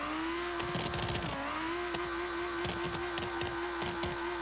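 A car in the video game BeamNG Drive drives along with a steady engine drone at a sustained pitch, broken by rapid ticking and rattling bursts, moderately quiet with no talking.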